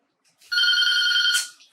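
A telephone rings once in a room, a single bright, sustained electronic trill lasting about a second, loud and close, with no talking over it.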